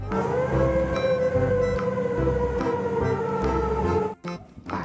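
A wailing toy fire truck siren sounds continuously at close range, steady and high-pitched, with rattling clatter underneath before it cuts off abruptly.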